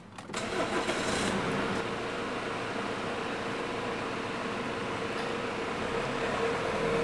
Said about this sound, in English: We need to start the engine.